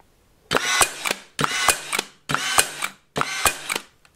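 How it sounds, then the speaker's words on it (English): Ryobi 18V Airstrike 15 gauge angled finish nailer fires four times in bump mode, each shot a loud mechanical drive followed by a sharp crack, spaced about a second apart, close and alone. "you press and hold the trigger and bump on contact to fire as many times as you want while holding"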